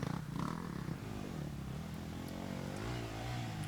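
An enduro motorcycle engine revs hard at an endurocross race, a continuous buzzing roar that rises and falls in pitch, fairly close and unbroken, with faint clatter around it.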